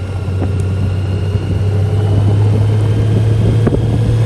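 A 2021 Honda Gold Wing motorcycle engine in sport mode holds a steady, loud, low drone at high RPM, sustained and unbroken while it waits to shift into third gear, with wind rushing over the microphone.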